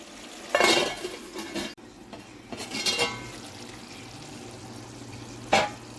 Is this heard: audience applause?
no